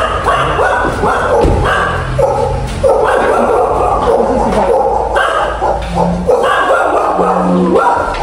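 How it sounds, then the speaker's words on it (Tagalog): A dog barks and yips repeatedly around a home during a visit, the barks mixed with steady background noise and people talking nearby. "May aso din eh."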